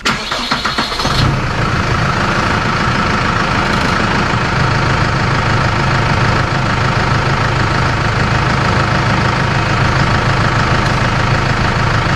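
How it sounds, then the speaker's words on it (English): A loud tractor engine cranks briefly, catches, and settles into a steady, rumbling idle that continues unbroken. "I'm gonna give the tractor a crank and see if it needs to run fluid through."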